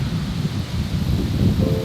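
Wind blows outdoors, a continuous low rumbling buffet that rises and falls slightly and stays fairly loud throughout, with no talking.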